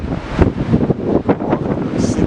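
Strong west wind on the beach at Anglet buffets the microphone with loud, gusting rumble and roar, heavy and close throughout, with a faint murmur of surf underneath.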